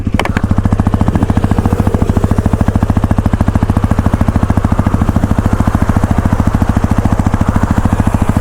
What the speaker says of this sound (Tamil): எக்ஸாஸ்ட் நோட் வந்து கேளுங்க.